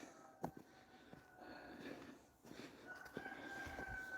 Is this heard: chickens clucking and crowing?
yes